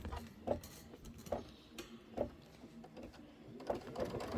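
An embroidery sewing machine stitches out a quilting stitch on a Kimberbell Cup of Cheer house block, with a soft rhythmic chatter of needle strokes and small periodic clicks about once a second, close and moderately quiet.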